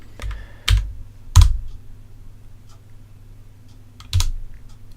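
Computer keyboard typing: a few scattered, distinct key clicks and thumps sound close and crisp over a steady low hum, with long quiet gaps between presses.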